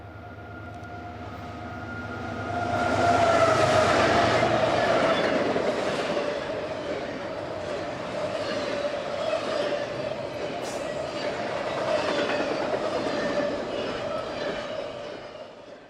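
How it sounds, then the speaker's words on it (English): An eastbound intermodal stack train, running short at about a quarter of its usual length on the Meridian Speedway, rolls in after a steady engine hum and swells into a loud, sustained rumbling roar with faint clickety-clack that holds to the end. "This stack train is about one quarter of its typical length."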